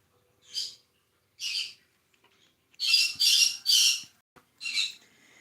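A pet bird squawks indoors, sharp and loud, in about six harsh bursts with short silences between them, the middle three coming in quick succession.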